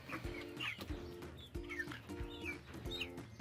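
Village chickens clucking close by in their new coop, a steady run of short throaty clucks and calls with occasional louder squawks, no talking.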